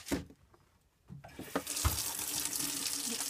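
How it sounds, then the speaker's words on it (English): Hot water gushes steadily from a tap into a sink, a broad continuous splash that starts after a few soft knocks and runs without letup to the end. "More hot water."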